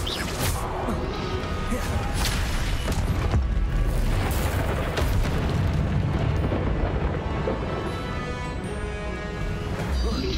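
Confringo spell blasts in the Hogwarts Legacy video game: dense, continuous crashing and booming explosions with rumbling debris, loud and sustained throughout.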